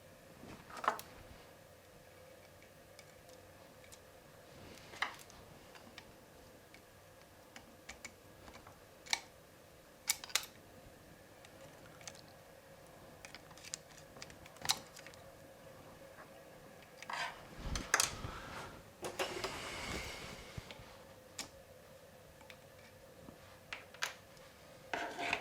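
Small screws being undone on a Nissan Micra K10 carburettor, a quiet series of scattered clicks and light scraping taps from close by, with no talking.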